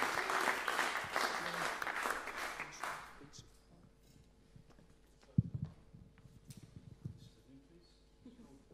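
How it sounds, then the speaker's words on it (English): Applause from a big band audience, loud and dense for about three seconds before fading into scattered claps and murmuring crowd noise. "And also a huge round of applause for Emmy Churchill, doing an incredible job"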